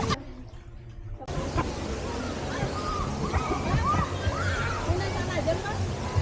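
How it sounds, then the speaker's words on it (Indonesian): A busy wave pool at Tektona Waterpark sloshes and churns with water noise, mixed with the babble and shouts of many swimmers, after a brief quieter moment at the start. "Kemudian, kolam ombak."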